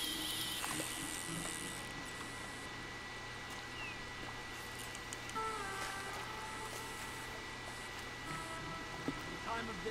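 Rain in the video game Red Dead Redemption 2, a steady hiss of falling drops on surfaces with faint thin tones and clicks over a low hum, continuous for about ten seconds.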